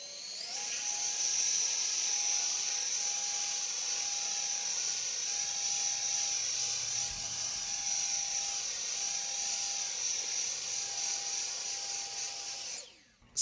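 A Ryobi battery handheld leaf blower runs continuously at one speed, giving a steady high-pitched whine and rushing air that stays close and even for over twelve seconds before it switches off.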